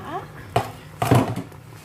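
A metal pot lid clanks against a pot of boiling water twice, sharp close clatters with a faint bubbling hiss underneath.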